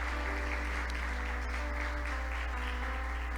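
A church congregation claps continuously during a morning service, the applause faint and steady with a low hum underneath.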